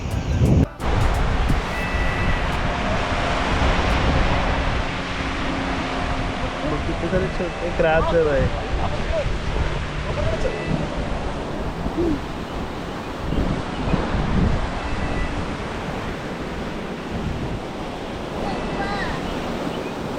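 Sea waves wash and roll continuously in the background on the Konkan coast while people talk nearby, with occasional gusts of wind against the microphone.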